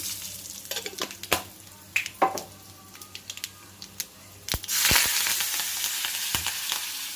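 Scattered light clicks and crackles, then a sudden loud burst of sizzling as tempering seeds and curry leaves drop into hot oil, settling into a steady fry.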